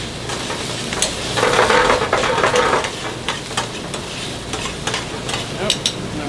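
Pink shrimp fry in a pan with a steady close sizzle, stirred and tossed a few times, for a shrimp fondue dish in a commercial kitchen.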